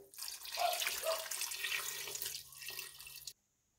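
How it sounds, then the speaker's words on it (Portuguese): Two cups of water are poured into a pot for a pineapple-coconut sweet, a close, steady splashing pour lasting about three seconds before stopping abruptly into silence. "Vou colocar também duas xícaras de água"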